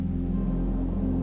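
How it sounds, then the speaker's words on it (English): A steady, low resonant hum drones evenly throughout, a deep unchanging tone with no other sounds. "The resonance hums around you, a steady, unchanging tone"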